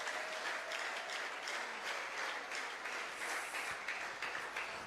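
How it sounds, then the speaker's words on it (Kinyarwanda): A church congregation applauds steadily during worship, a dense, continuous wash of many hands clapping at an even level throughout, with no talk over it. "Tumukomere amashyi n'umwami w'abantu."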